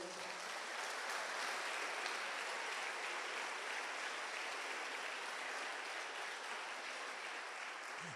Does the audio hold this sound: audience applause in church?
yes